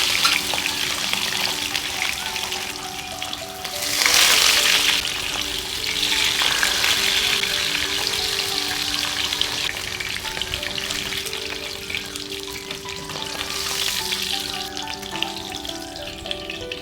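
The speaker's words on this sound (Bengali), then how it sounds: "এখন মাছগুলো একে একে তেলের মধ্যে দিয়ে দিচ্ছি।" Fish pieces drop one by one into hot mustard oil in a frying pan and burst into loud sizzling, with surges at each addition settling into a steady bubbling fry.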